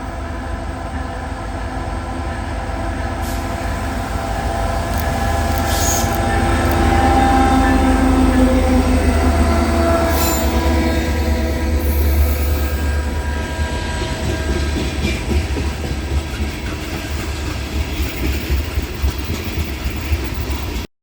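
A Norfolk Southern local freight led by SD40-3 rebuild locomotive NS6408 with GP60 NS7118 rolling north on track 2 at Hayne Yard, with a steady low engine rumble and wheel noise swelling midway, then carrying on.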